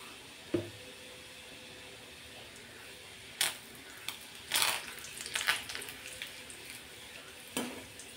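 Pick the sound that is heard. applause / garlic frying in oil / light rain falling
garlic frying in oil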